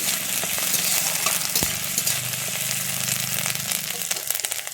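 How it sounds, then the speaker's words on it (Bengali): Chopped garlic and ginger fry in hot oil while being stirred, a steady close sizzle running throughout with light scraping from the stirring and no talk. "তেলটা গরম হয়ে গেছে আমি এর মধ্যে দিয়ে দিচ্ছি রসুন কুচি এরপরে দিয়ে দিচ্ছি আদা কুচি দিয়ে একটু নেড়ে নিচ্ছি"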